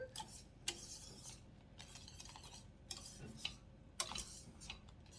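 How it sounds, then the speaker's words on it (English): A spoon stirs untoasted sweetened coconut flakes into a thick cake mixture in a bowl, producing quiet scraping with a few sharper clinks against the side of the bowl. "So just mix that in."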